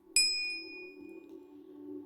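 A single bright notification bell ding strikes sharply and rings out with a clean decaying tone, over a faint steady low hum.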